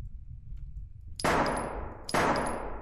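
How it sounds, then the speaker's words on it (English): Two sharp gunshots from a first-person horror game set in a dark zombie demon nest, each a loud crack with a ringing tail, about a second apart, after a quiet stretch. "Can I shoot the light out?"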